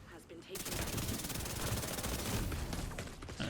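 The Chatterbox SMG in the video game The Division 2 fires one long, continuous automatic burst of very rapid, evenly spaced shots, loud and close, stopping briefly near the end.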